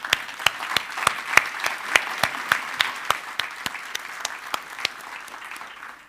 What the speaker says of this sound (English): I would like to invite everyone to join me for an applause of our 5 excellent panelists.